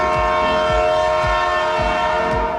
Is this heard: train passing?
yes